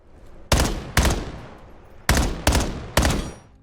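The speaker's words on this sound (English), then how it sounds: "you once again have to shoot the heads off all the mannequins on the map in under 2 minutes" Five loud, sharp gunshots ring out in an uneven sequence as a player shoots the heads off mannequins in a video game, each blast decaying quickly with no talk.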